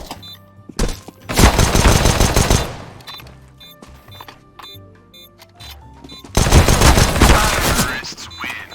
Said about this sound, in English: The enemy has a P90, which is a submachine gun